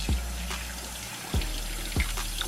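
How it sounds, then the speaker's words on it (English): Tap water runs steadily over meat being rinsed clean after soaking in vinegar, a continuous hiss and splash with a few brief thuds at regular gaps, close and alone without talk. "So we're just gonna catch some fresh water on it."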